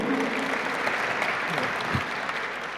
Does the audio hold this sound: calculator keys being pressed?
no